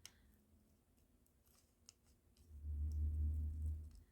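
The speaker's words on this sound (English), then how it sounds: "Sorry that you're gonna probably be completely bored watching me cut." Scissors fussy cut a stamped mason jar image out of very thin paper, giving a series of small close snips and clicks, followed by a low rumbling handling noise near the end.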